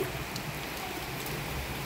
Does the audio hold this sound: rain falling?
yes